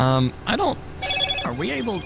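Mobile phone ringing during a live stream, a loud electronic ringtone with tonal bursts that repeat between and over short stretches of conversation.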